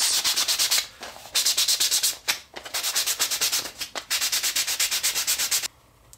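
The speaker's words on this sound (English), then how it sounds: "we just need to sand around it and take off some of these sharp edges" Sandpaper rubs rapidly back and forth along the sharp edges of a wooden playing card gift box, loud and close in fast rhythmic bursts with brief pauses between runs.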